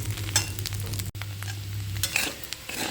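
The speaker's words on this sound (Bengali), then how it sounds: "সুজিটা দিয়ে একটু ভালো করে নাড়িয়ে চাড়িয়ে ভেজে নেবে" Semolina fries and is stirred in a pan, with crackling sizzle and repeated scraping strokes of a spoon over a low background hum. A brief dropout comes near the middle.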